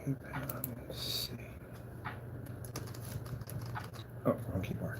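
Rapid clattering keystrokes on a computer keyboard at a desk, irregular bursts of clicks close by while a person talks.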